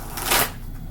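A brief riffle of tarot cards being shuffled close up, a soft papery rush lasting under a second.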